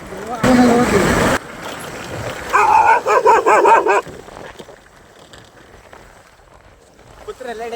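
A dog gives a quick run of sharp, close barks, with yips between them. People talk before and around the barking, and quieter background noise follows.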